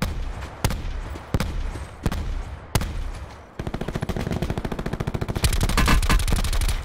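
In Call of Duty: Black Ops 4, several single gunshots are spaced about a second apart. Rapid automatic fire follows, then a louder, faster burst that keeps going to the end.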